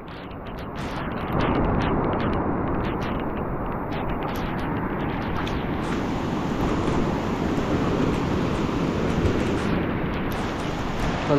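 Heavy, steady roar of water and surf during torrential rain and flooding, a loud continuous wash with wind-like rush filling the whole clip, no speech.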